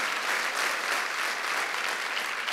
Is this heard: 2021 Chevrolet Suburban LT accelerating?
no